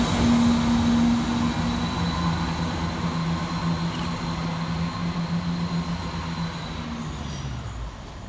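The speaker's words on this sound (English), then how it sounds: "Next train out to depart is 170 457, working the 13:17 Northern service of York through to Leeds." Northern Class 170 unit 170 457 departs Harrogate station on a York to Leeds service, its diesel engine droning with a steady tonal hum that slowly eases and fades as it pulls away, with no talk.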